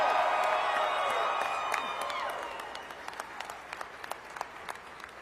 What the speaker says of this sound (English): giving a big round of applause to the best First Lady in the country, Marty Kemp